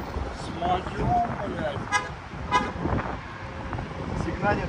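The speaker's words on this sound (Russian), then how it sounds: "Сигналит вашему Мерседесу, говорят." A car horn toots briefly a few times near a Mercedes on a city street, with short harsh blasts over traffic noise while people talk nearby.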